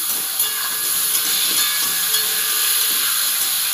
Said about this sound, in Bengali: ভালো করে একটু নেড়ে চেড়ে ভেজে নেব।